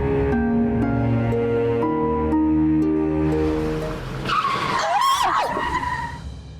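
A car speeds by loudly under a droning musical score, then its tires screech in a long, sweeping skid near the end, close and intense.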